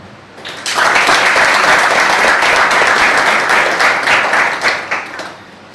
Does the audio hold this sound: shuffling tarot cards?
no